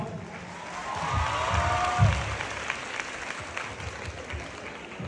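An audience at a college event applauds steadily for several seconds, a dense wash of hand claps with crowd murmur, swelling briefly near the middle before easing.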